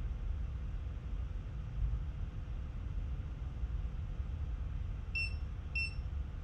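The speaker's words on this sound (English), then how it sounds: "we've had the two beeps" A Presidium Gem Tester II gives two short, clear electronic beeps a moment apart, sounding near the end over a quiet background hum.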